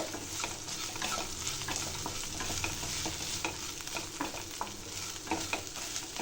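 Okra (ladies finger) frying in a pan, a continuous crackling sizzle with repeated scraping stirs of the spatula, close and fairly soft.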